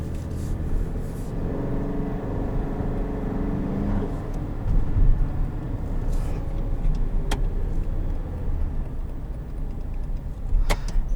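A 2020 Chevrolet Silverado Custom Rally Edition with an eight-speed automatic, set in tow haul mode, pulls out onto the road. A steady low engine rumble and road noise fill the cabin, with a few brief clicks and no talking.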